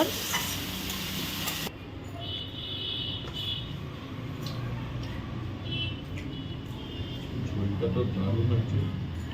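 Chow mein being stir-fried in a pan, with steady sizzling and scraping stirring sounds running throughout at close range, brief noisy clatter at the start, and a voice talking over the cooking.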